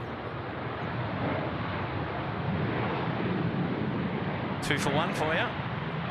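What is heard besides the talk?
Garuda airliner taking off from Sydney Airport runway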